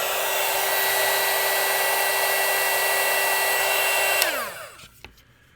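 A plastic heat shrink heat gun blows air with a steady close whirring hiss and a high tonal whine, then switches off and winds down quickly near the end.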